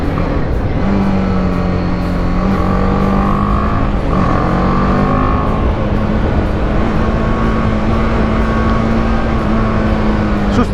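The single-cylinder engine of a BMW G310GS motorcycle revs steadily and loudly throughout, its pitch rising and falling as the bike rides along, close and continuous.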